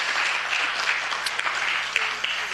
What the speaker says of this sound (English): A real big, if you could, round of applause for them.